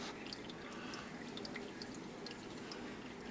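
Fluid drains from a Yamaha Grizzly 600 quad in a steady, faint hissing trickle with scattered small drips, continuous throughout and with no voices.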